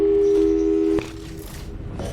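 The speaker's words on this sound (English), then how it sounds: "let's give your parents a call right now" Phone tone in the video game Portal 2, a loud steady electronic beep that holds for about a second and then cuts off, followed by a fainter quiet stretch with small clicks.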